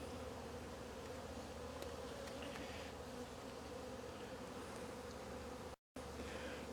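Honey bees hum steadily inside a strong, freshly opened hive at its first spring inspection, a soft, continuous buzz broken by a brief dropout near the end, with no voices.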